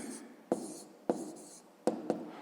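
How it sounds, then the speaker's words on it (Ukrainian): A pen writing an answer on paper, its soft scratching strokes continuous and close, broken by a few sharp taps as it lifts and meets the sheet; quiet, with no voices. "тепер записуємо відповідь. Пишемо відповідь."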